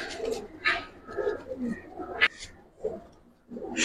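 Giribaz pigeons in a loft coo in several short bursts, fairly close and moderately loud, with short pauses between calls.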